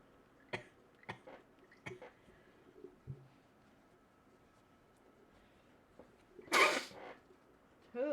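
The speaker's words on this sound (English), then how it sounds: "I have to sneeze again." A loud, sharp sneeze bursts out near the end, standing alone after several faint clicks and soft thuds in an otherwise quiet room.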